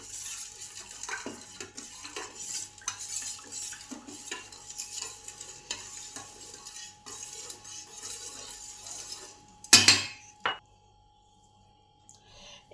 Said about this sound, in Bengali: এবার সব একসঙ্গে মিশিয়ে নিলাম।